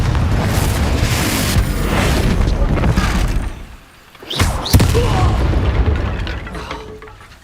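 A Confringo fire spell blasts in the Hogwarts Legacy video game, a loud booming explosion with rumbling debris over steady game ambience, followed by a brief lull and a second sharp impact.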